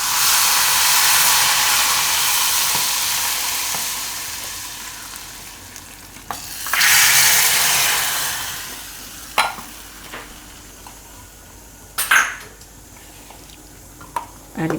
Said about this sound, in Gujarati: હવે ગેસ બંધ કરી દેવું અને આ વઘાર આપણે કઢી ઉપર નાખી દેવું